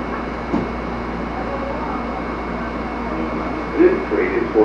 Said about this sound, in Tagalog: This train is for airline terminals only.